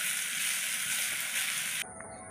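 Okra fritters frying in a pan in a village kitchen, a steady close sizzle that cuts off abruptly near the end, leaving quieter room sound.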